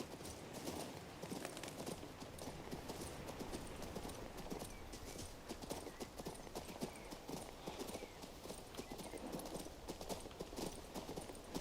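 Steady clip-clopping of horse hooves from a horse being ridden in the video game King's Bounty II, a continuous rhythmic trot at close range with a quiet game ambience underneath.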